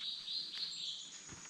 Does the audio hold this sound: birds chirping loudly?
yes